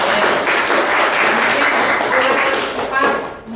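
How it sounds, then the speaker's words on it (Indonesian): Applause from a class in a classroom after a presentation, a dense wash of many hands clapping steadily for a few seconds before tapering off, with voices mixed in. "Tepuk tangan ya."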